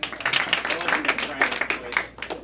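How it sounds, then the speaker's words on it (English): A small group claps for game-show contestants at a live event, a handful of distinct, fairly close hand claps in an uneven rhythm over a low hum, with voices mixed in. "Clap for our players."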